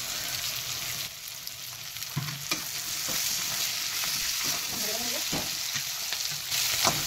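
Green chilli, new potato and onion greens fry and sizzle steadily in a pan for a chilli-hot fish dish, with a few stirring scrapes and clinks breaking through the continuous hiss.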